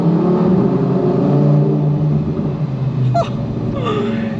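A Lamborghini Huracán Performante Spyder's V10 engine revs with a loud, steady, close-up rumble that dips slightly near the end, with no voices over it.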